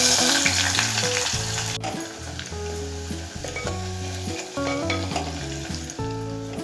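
Chopped onion frying in hot oil in a pan for Bengali handi chicken: a steady, soft sizzle running continuously beneath louder melodic background music.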